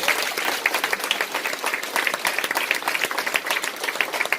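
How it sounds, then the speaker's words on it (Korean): An audience at a lecture applauds, a crowd of people clapping in a brisk, continuous patter with individual claps standing out, moderately loud and sustained from start to finish. "박수 한번 주실래요?"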